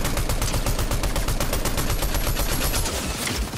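Rapid gunfire in the Fortnite video game, a loud dense burst of shots in quick rhythmic succession lasting a few seconds, close and without talk.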